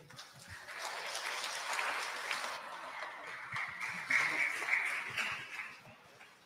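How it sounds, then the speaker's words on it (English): A congregation applauds in church during a Holy Saturday Easter vigil, a steady, fairly distant round of clapping from many hands that builds, holds, then tapers off. "Let's give the Lord a round of clap offerings."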